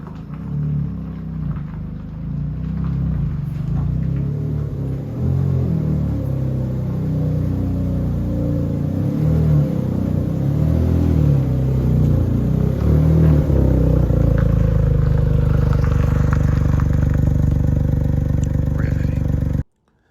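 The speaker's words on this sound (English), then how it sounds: "let us drive across the bridge there" Small Smart car rolling slowly across a covered bridge during a Lemons rally, a steady low engine drone with rumbling and clattering from the deck boards, fairly close and continuous before cutting off abruptly.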